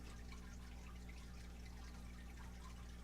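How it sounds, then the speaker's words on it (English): Water trickles and splashes in a steady, continuous wash, fairly soft and even throughout with no voices. "Listen to the water."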